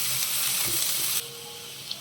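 Onions and green chillies sizzle and hiss in hot oil in a pan, a steady frying crackle that drops to a softer sizzle partway through, with a faint clink near the end.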